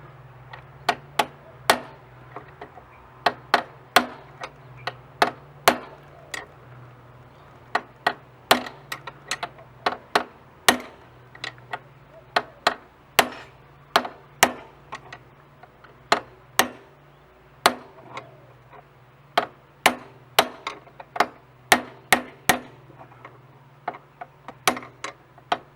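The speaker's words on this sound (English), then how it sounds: "I've just got a piece of steel that I'll use as a punch and a hammer, and what you do, knock it on one side and the other" A hammer strikes a steel punch to drive a worn steering head bearing race out of a Honda CT110 Trail frame, giving many sharp metallic knocks in irregular bursts, close and loud.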